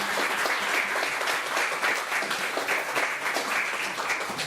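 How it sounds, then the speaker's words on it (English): An audience at a tech talk event gives a sustained round of applause, many hands clapping continuously at a steady moderate level with no talking over it. "Let's give him a round of applause."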